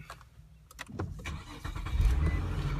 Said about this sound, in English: So what we'll do now is we'll start the car.